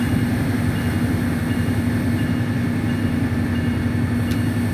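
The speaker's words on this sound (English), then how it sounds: "I swear I can hear the engine revving up" A steady, loud MPI F40PH-3C diesel locomotive engine in Train Sim World drones continuously with a low hum and constant rumble, no change in pace throughout.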